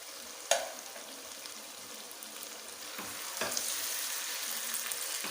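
Potatoes and cauliflower for aloo gobi fry in a pan with a steady, soft sizzle, broken by a few sharp clinks of stirring.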